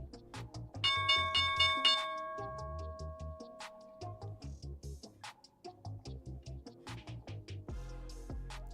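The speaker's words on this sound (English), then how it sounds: "Opening bell." A stock market opening bell clangs in a long run of rapid, evenly spaced metallic strikes with ringing overtones, loud and continuous, with no voices over it.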